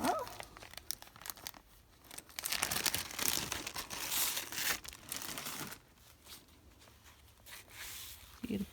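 The plastic-wrapped cover of a craft parcel is crinkled and torn open off to one side, bursts of crackling rustle coming and going, loudest in the middle, with quiet pauses between.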